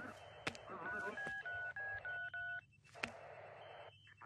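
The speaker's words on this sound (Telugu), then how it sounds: "ఫోన్ చేయవయ్యా." Telephone keypad being dialed, a rapid series of about eight short DTMF tones in a steady rhythm, close and clear, with brief clicks before and after in a tense film scene.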